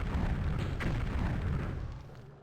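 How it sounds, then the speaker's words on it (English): An explosion spell detonates in The Elder Scrolls II: Daggerfall, a loud, rumbling boom that roars steadily before fading out over a couple of seconds. "soon it'll be worth making an even bigger explosion spell"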